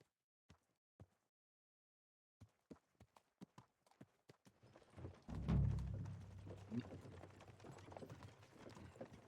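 Horse hooves clip-clop in Kingdom Come: Deliverance II, a few sparse, sharp steps at first, then a faster run of hoofbeats that blends into a louder rumbling ride with ambient noise.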